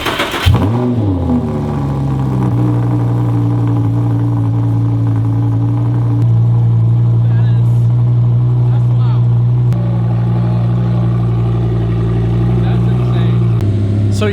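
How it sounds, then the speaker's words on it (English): An Audi R8 V10 with a muffler delete cold starts, the starter whirring before the engine fires with a loud rev, then settles into a deep, steady, throbbing high idle. "Let's go ahead and get the first ever cold start of a V10 in our garage."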